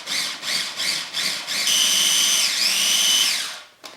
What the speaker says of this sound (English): I'm just ripping the bread up, putting it in my little Cuisinart mini prep,